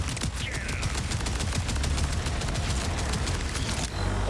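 Dense, continuous gunfire and explosive impacts in the video game Borderlands 4, a loud unbroken barrage of rapid shots over a heavy low rumble with no pauses.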